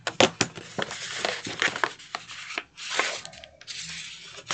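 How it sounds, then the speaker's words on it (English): Paper being burnished along a fresh crease while folding a handmade envelope, heard as repeated close, dry rubbing and rasping strokes in short bursts with brief pauses between. "And now I'll burnish that crease."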